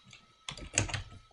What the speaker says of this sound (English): If you type in Richmond,